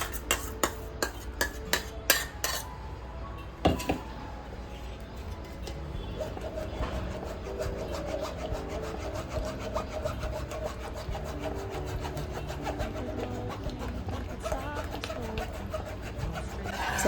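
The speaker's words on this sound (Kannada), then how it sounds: "ಇದನ್ನು ಮತ್ತೆ ಇನ್ನೊಂದು ಸರಿ ಸೋಸ್ಕೊತೀನಿ." Carrot paste pressed and rubbed through a sieve at home, a steady, close, rhythmic scraping that runs throughout after a few sharp knocks at the start.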